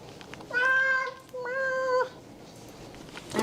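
A very large domestic cat meows twice in a row, two clear, drawn-out tonal calls up close, each lasting about half a second, set against a faint background hiss.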